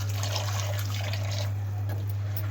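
A cup of water pours into a pot of chicken nihari, a steady close splashing and trickling that softens toward the end over a constant low hum, with no voices.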